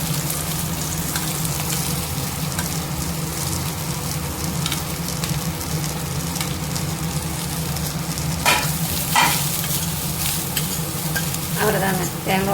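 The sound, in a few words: grated coconut being stir-fried in a pan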